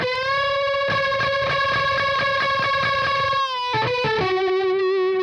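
Sustained electric guitar notes through a reverb effect ring out with a washy, echoing tail, strummed in a steady pulse before shifting to a few new chords.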